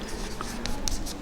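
Chalk or marker scratching out short strokes on a board during a mathematics lesson, a quiet near scraping with a few brief squeaks, heard alone without talk.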